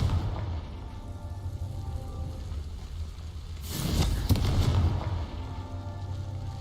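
The Confringo explosion spell in Hogwarts Legacy lets off a brief, moderately loud fiery burst with a crackling tail over a steady low ambient hum.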